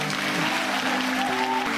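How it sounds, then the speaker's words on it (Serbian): Clapping from an audience, heard as playback from a phone feed, blends with steady music underneath, a continuous loud patter with no pause. "Au, što vi tapšu?"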